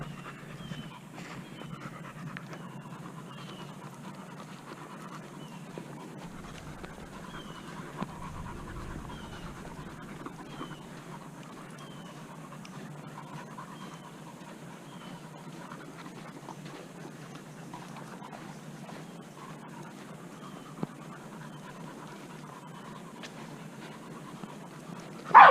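A young dog pants steadily on a walk along the Pine Ridge Loop in Tree Tops Park, Broward County, Florida, the quick breaths soft and continuous for the whole stretch with no one talking.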